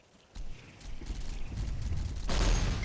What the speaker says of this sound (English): Riegel already has a couple of mercenary snipers there shooting